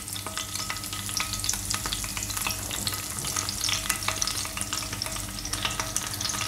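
Curry leaves crackle and sizzle in hot oil in a pan for Kerala-style fish fry, a dense, steady frying hiss with sharp popping spatters throughout, close and fairly loud.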